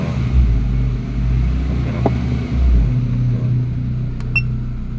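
An older car's engine idling with a low, steady rumble, rising briefly as the throttle is pressed, then settling back; a couple of faint electronic beeps sound near the end.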